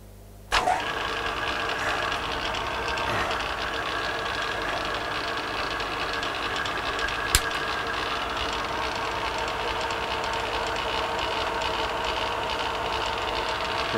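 A bench grinding wheel, set up for precision grinding flat sharpening stones, starts with a sudden onset and then runs at a steady, loud, continuous whir with a faint brief tick partway through.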